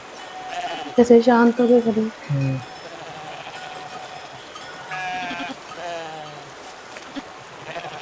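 Sheep bleat loudly close by, a few drawn-out calls in two bursts, with someone speaking briefly in between.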